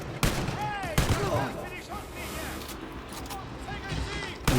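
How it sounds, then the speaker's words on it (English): Enemy gunfire in the shooter video game Wolfenstein: Youngblood, loud repeated bursts of shots and impacts with metallic ricochet whines, continuous and close, under faint game sounds. "those guys are shooting at me"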